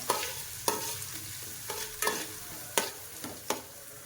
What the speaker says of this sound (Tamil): இப்போ இதையும் வெங்காயத்தையும் வதக்கிக்கணும்